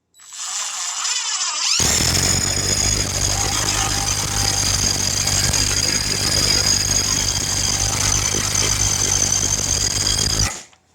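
A DeWalt 20V brushless impact wrench hammers continuously on a broken bolt, a loud, close, rapid rattling burst lasting about nine seconds after a brief spin-up, then stopping abruptly.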